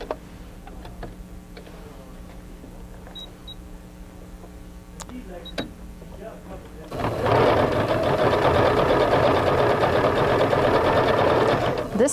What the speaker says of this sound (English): I'm going to show you the reinforcing stitch.